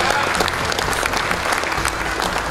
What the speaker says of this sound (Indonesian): Berikanlah satu tepukan yang paling gemuruh untuk kita semua pada malam ini.